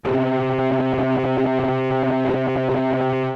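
A dense, buzzing synthesizer drone holds steadily throughout, its tone wobbling and pulsing rapidly as it is modulated, loud and continuous with no voices.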